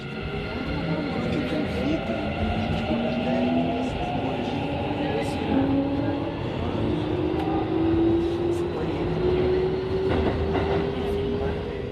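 Steady rumble of a train running through the outskirts of Tokyo, with a continuous rolling drone, a rising whine from the motors and a few faint rail clicks throughout, heard from inside the carriage.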